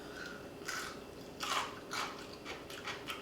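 Crisp bites and crunchy chewing of a half-sour, lacto-fermented dill pickle, several sharp crunches spaced across a few seconds, close and fairly quiet with no talking.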